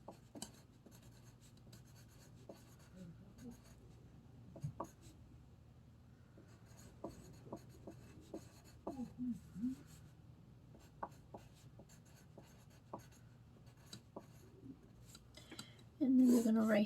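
Pencil or pen writing on a paper worksheet in a quiet indoor setting, heard as faint, scattered scratchy strokes with short pauses, then a louder scrape near the end.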